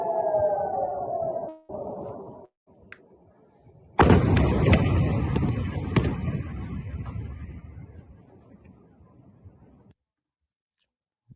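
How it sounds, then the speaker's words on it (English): An air raid siren wails in Israel as a rising and falling tone, then a loud deep boom or blast rumbles and slowly fades into silence. "I was supposed to give you a heads up for the siren"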